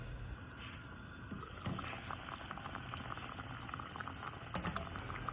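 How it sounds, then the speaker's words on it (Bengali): Dried beef pieces simmer in boiling water, making a faint, steady bubbling with a few soft clinks and stirs near the end. "পানিটা ফুটে উঠলে আমি মাংসের শুটকিগুলো গরম পানিতে দিয়ে দিচ্ছি"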